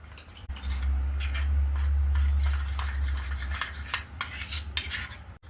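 A spoon scrapes and clinks against a bowl in quick, uneven strokes while thick custard mix is stirred, close and fairly loud, with no talking.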